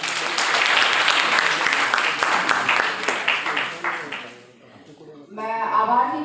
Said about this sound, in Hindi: आप सभी को पहले अपने लिए एक बार जोरदार ताली हो जानी चाहिए